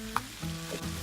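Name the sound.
spinach cooking down in a pan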